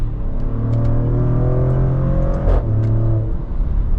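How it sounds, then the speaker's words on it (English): A Maserati Grecale Trofeo SUV accelerating on its real exhaust, a close, rich engine note rising through the revs with a brief shift around the middle, heard without talk. "That is all real exhaust sound from this Grecale Trofeo."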